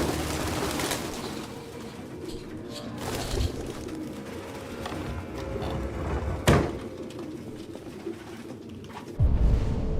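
Pigeons coo steadily through a game scene in Detroit: Become Human, close and fairly loud over a low ambient bed, with a sharp knock near the middle and a heavier thud at the end.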